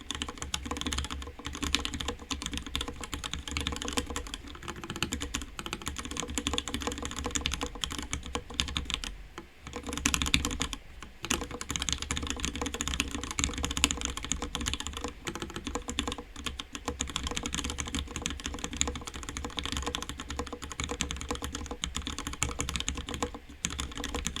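Fingers type steadily on a Cannonkeys Atlas mechanical keyboard, a close, continuous patter of key clacks with brief pauses, the rhythm uneven as words are entered.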